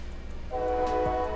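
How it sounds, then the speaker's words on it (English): A train sounds its horn, a sustained, harmonically rich blast beginning partway through over a low rumble of passing rail cars, moderately distant and steady. "Yeah, I have to excuse the train. The train freaking sucks."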